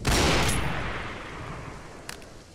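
A single loud gunshot in the horror game Bob The Killer, a heavy boom at the very start with a long rumbling tail that fades over about two seconds.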